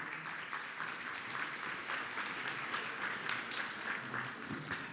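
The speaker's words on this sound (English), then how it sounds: "Give a round of applause for these fine folks up here." An awards ceremony audience gives sustained, even applause for people on stage, a dense wash of many hands clapping at a distance, fairly faint and steady throughout.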